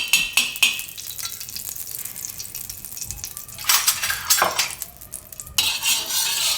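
A dal paratha roasts on a flat tava greased with ghee, giving a soft sizzle broken by clinks and scrapes of a spatula and utensils, with bursts of brighter frying hiss toward the end.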